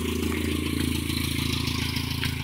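A rebuilt 16-valve engine in a 1996 Geo Tracker idles steadily, a constant low rumble with a fine rhythmic pulse running unbroken and close by, with no talk over it.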